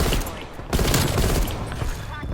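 M16 rifle gunfire in the Black Ops Cold War multiplayer game, loud rapid bursts of shots running almost continuously with dense impact noise and a voice talking underneath.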